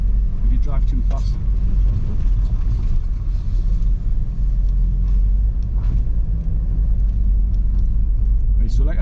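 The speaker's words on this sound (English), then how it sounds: "that's what I mean by driving fast over stony tracks" A car drives fast over stony tracks in a valley, giving a heavy constant low rumble of tyres and engine with scattered clicks of stones, and someone talking over it.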